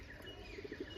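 Soft, low coos from purebred pigeons kept at home, a few faint rounded calls close together over a quiet background hiss.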